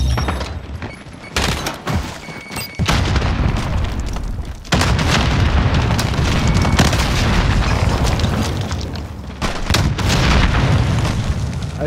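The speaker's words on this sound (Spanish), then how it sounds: "Coloquen explosivos dentro del túnel para emboscar al tren." Explosives going off in a tunnel in the Call of Duty Vanguard video game, heavy booming blasts and a dense roaring rumble that keeps going loud and continuous, with brief drops between bursts.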